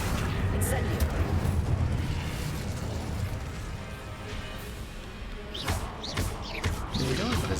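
An Incendio fire spell is cast during a hard-difficulty fight in a Hogwarts wizarding video game. It sounds like a dense, continuous roar of combat with repeated sharp bursts and crackling blasts, loudest at the start and end.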